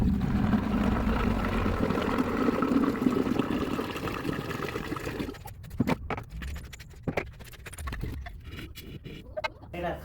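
Water gushes steadily into a bucket for several seconds, a full, rushing pour in a village home, then breaks into scattered splashes and knocks as the flow stops; a voice speaks over the pouring.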